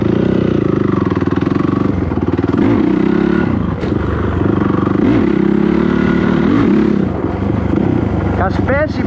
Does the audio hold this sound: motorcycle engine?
yes